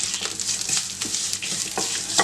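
Steady close-up sizzling of coconut and shallots roasting in a pan with occasional scraping stirs, a continuous crackling hiss without pause.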